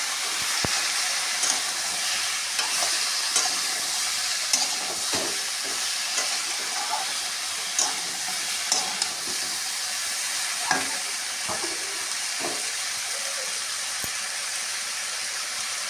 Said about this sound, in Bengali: দিয়ে এটা ঢেকে ঢেকে একটু ভাজা ভাজা করে দেবো।